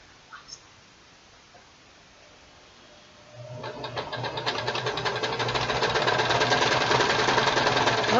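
A Kenmore sewing machine stitching fabric starts up after a quiet pause with a few light taps, then runs as a steady, rapid mechanical whir that builds and holds close and clear.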